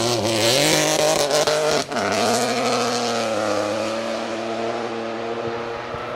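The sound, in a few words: Peugeot 1.2 litre rally car engine passing on stage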